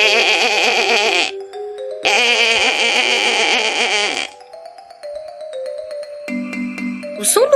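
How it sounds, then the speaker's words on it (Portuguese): Long, wavering bleats, loud and close, come one after another with short gaps, followed by a brief high electronic tone. "o berro de uma ovelha"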